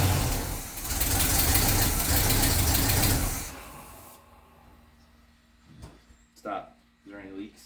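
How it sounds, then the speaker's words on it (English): Long-stored barn find car engine cranking and catching, running loud and rough for about three seconds before cutting out, followed by quiet with short bursts of talk. "You want to crank it again? Let's see if I can keep it going."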